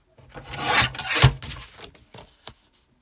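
A paper trimmer slices card stock down to a 5.25 by 5.25 inch square for a Christmas card, a close scraping rasp of the blade running across the sheet followed by a few light taps.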